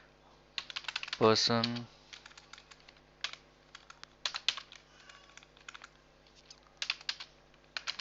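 Code being typed on a computer keyboard in irregular clusters of crisp, close keystrokes with gaps between, and a brief spoken word near the start.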